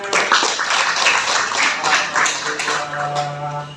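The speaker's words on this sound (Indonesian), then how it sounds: "tepuk tangan untuk semuanya" A class of students clapping in a classroom, a dense patter of hands that continues for several seconds with some voices mixed in.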